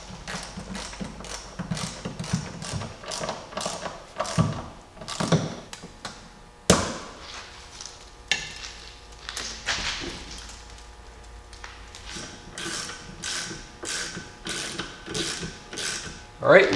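Ratchet wrench snugging a shock absorber nut on a Jeep Cherokee XJ during a rear suspension lift install, heard as repeated close, bursty clicking strokes in quick runs with short pauses between, loud and alone without talk.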